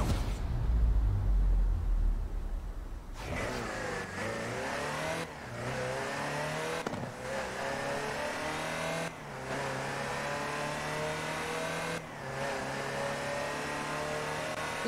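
A Land Rover Type 3 driven in Forza Horizon 4, its engine revving up through a series of gear shifts with steady droning pulls and brief dips between them, close and continuous.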